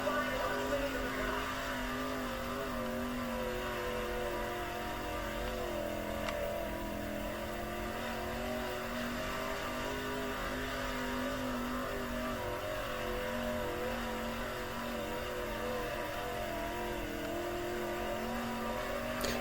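A sprint car's engine in the World of Outlaws video game holds a steady, droning roar on a dirt-track qualifying lap, continuous and loud from start to finish with slight shifts in pitch.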